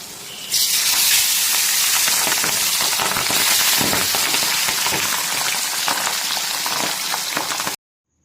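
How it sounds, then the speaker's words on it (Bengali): Pabda fish frying in hot oil in a home kitchen, a loud, dense, steady crackling sizzle that starts abruptly and runs unbroken until it cuts off. "এখানে তেল গরম হয়ে গেছে, প্রথমে মাছগুলোকে ভেজে নেব"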